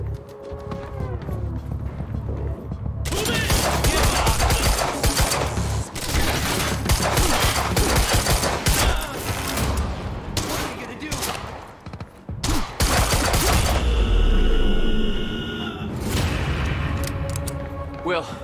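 Gunfire in the game Quantum Break, sustained rapid volleys of shots and bursts at close range over about eighteen seconds, with brief pauses and some voices shouting in between.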